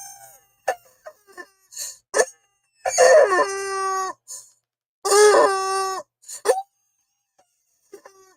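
A golden chicken in a video game crows twice, long harmonic cock-a-doodle-doo calls loud and close, between short clucking bursts and scattered clicks against near silence.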